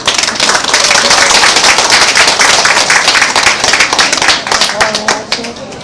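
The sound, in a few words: wedding guests applauding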